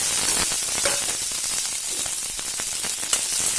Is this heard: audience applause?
no